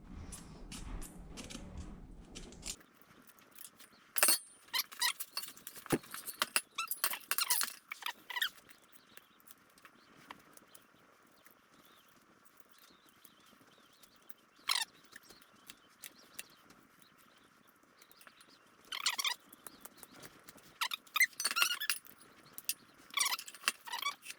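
A rubber flapper from a John Deere 47 snow blower is cut, giving irregular squeaks, snips and small clicks in bursts against a quiet background, with no talking.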